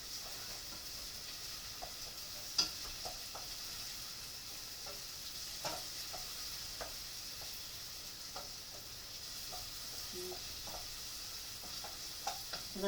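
Vegetables sautéing in a pan for homemade banana ketchup, a faint steady sizzle with occasional soft stirring taps, quiet and unaccompanied by talk.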